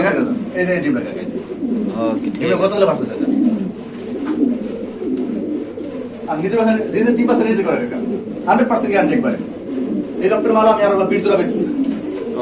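Pigeons, kept as pairs for sale, coo repeatedly in a series of low, rolling calls close by, with a voice talking over and between them.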